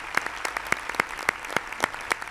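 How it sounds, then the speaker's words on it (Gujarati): At a live Gujarati comedy show, an audience claps in an even rhythm, with sharp, evenly spaced beats repeating close together and no talk over them. "એકવાર જોરદાર તાળીઓથી બધાને વધાવી"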